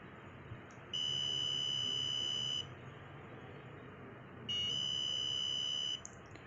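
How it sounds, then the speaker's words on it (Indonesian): A buzzer on an LM35 temperature-sensor electronics project sounds after the reading passes 40 degrees: two loud, steady, high electronic tones, each lasting nearly two seconds and separated by a short pause, over a background hiss. "pada saat suhu lebih dari 40 derajat menghasilkan bunyi buzzer yang sangat keras"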